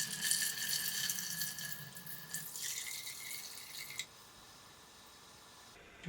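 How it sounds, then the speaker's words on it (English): Liquid film developer pours into a bottle as a faint, close trickle and gurgle that runs for several seconds before tapering off into quiet. "let's hope this pours correctly"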